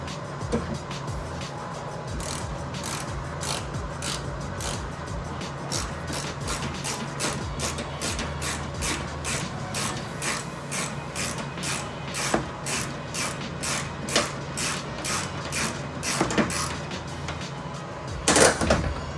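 A ratchet works a 10mm bolt out of exterior trim on a 1997 Toyota RAV4, producing a long run of rapid, evenly spaced close clicks over a low background hum, ending in a louder clatter.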